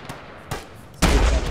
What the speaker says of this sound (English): I'll get there as soon as the BTR stops shooting at me.